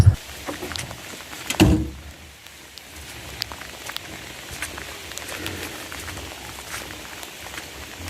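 Steady rain patters on a farm near sheep sheltering under a small structure, a soft continuous hiss with a few thumps and knocks near the start.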